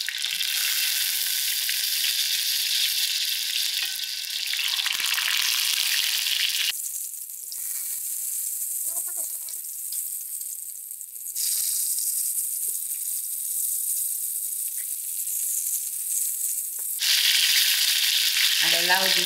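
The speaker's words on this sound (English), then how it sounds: "To this oil, I'm going to slightly fry my potatoes first." Potatoes frying in about half a cup of hot oil for aloo gobi, a loud, continuous sizzling hiss that shifts in intensity as pieces are moved, with occasional faint rattles.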